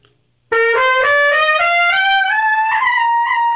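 A trumpet blasts a strained high C after brief silence, pitch wavering and sliding upward unsteadily, loud and close with no talking.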